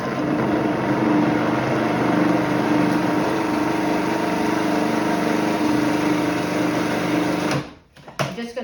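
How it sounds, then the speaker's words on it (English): A food processor whizzes cheesecake sponge ingredients together in a steady, loud motor drone that runs continuously for several seconds, then cuts off abruptly near the end, leaving a few faint clicks. "all those ingredients go in the food processor and we're going to whiz that together"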